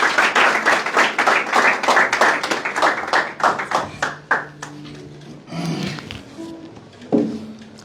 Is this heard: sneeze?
no